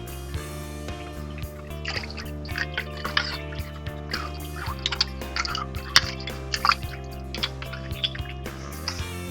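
Tiling tools rinsed under running water to clear off red residue, with irregular drips, splashes and sloshing over a steady background hum, close and moderately loud.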